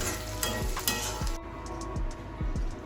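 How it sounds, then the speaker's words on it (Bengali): Whole cardamom, cinnamon, clove and mace fry in oil in a kadai for mutton chaap masala, a close crackling sizzle broken by regular scraping strokes of a stirring spoon against the pan. "গোটা রসুন আদা কাটি হুম দিয়ে এলাচ দারচিনি লং জৈত্রী হ্যাঁ এটা ফ্রাই হচ্ছে"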